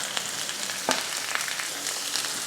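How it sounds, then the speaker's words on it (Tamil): A quarter kilo of carrots and beans fries in a pan with curry leaves and green chillies. A steady, close sizzle carries on without pause, broken only by faint stirring scrapes. "அடுத்து கேரட்டும் பீன்ஸும் ரெண்டும் சேர்த்து 1/4 கிலோ"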